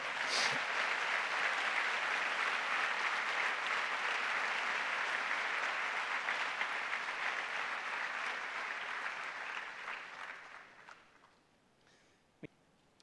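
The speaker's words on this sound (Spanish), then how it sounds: "eso se merece un aplauso para el Señor" A church congregation applauds in steady, dense clapping through most of the clip, then fades out near the end, leaving quiet with one sharp tap.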